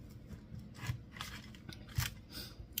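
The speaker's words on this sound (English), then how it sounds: "I'm going to cut them into 6" A knife cuts through a tray of soft, chewy homemade granola bars, making quiet repeated scraping, rasping strokes close by with a couple of soft thumps.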